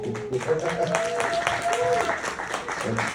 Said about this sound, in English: clap it up for the birthday girl one time